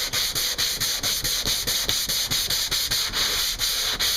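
A long hand sanding board is worked back and forth over an impact repair on an old Albacore sailboat hull, giving steady, close abrasive rasping strokes about every quarter second with a constant hiss, no voices.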